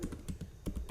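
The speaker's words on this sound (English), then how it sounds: "so here just type export" Rapid keystrokes on a computer keyboard, several clustered clicks over about a second, close and moderately quiet with no talking.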